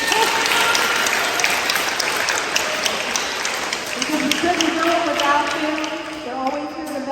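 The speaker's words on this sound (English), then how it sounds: "Now face a coach or parent or teacher and clap and say thank you." A banquet room full of athletes applauds coaches and parents, producing a dense, sustained clatter of many hands clapping at once. Voices rise faintly under the clapping toward the end.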